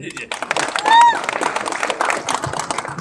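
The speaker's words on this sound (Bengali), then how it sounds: "ইমনের জন্য জোরে হাততালি" An audience claps for Imon at a comedy film release event, a burst of applause mixed with talk, cheering and a brief whistle-like tone.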